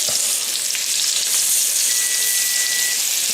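Blackened halibut fillet frying in butter in a pan, giving a steady, close, hissing sizzle that holds evenly throughout with no talking.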